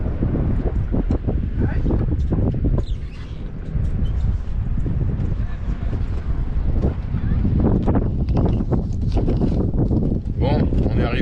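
Strong wind roars across the microphone on a boat at anchor, a constant low buffeting rumble, while someone speaks French over it.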